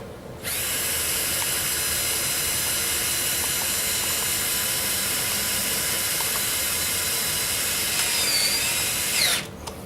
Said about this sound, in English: And we put a drill on that baby.